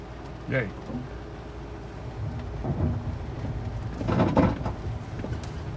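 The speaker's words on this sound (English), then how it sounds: "As you can tell, it's raining pretty good." Steady rain keeps up under the hiss and rumble of a car driving, with a few louder swells and splashes spread through.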